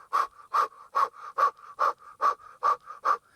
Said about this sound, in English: you're going to begin breath of fire